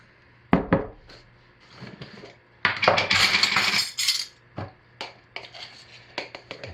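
A utensil clinks and scrapes against a bowl in short bursts as black charcoal colouring is stirred into chocolate ganache, with a sustained rough stirring stretch in the middle.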